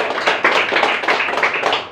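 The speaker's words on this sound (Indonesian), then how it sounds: "Tepuk tangan dulu untuk Tuhan kita" Church congregation claps together in a fast, rhythmic pattern, hands striking in repeated bursts that pulse close and fairly loud with no talking.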